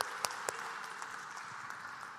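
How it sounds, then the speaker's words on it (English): An audience inside a Lutheran church applauds, a faint, even patter of many hands with a few sharper individual claps near the start, sounding distant in the large room. "How about a round of applause for the Gust women?"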